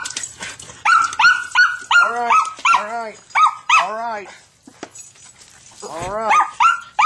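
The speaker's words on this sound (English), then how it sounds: "What are you barking at?" A dog barks close and loud in a house, a series of sharp repeated barks and yips in uneven bursts, with a brief quiet gap before a final whining, yelping flurry.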